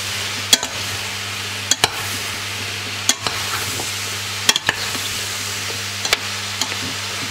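Mushrooms sweating in a pot for cream soup give a low, quiet sizzle beneath a steady hum, broken by sharp clacks of a spoon stirring and knocking against the pan at irregular intervals.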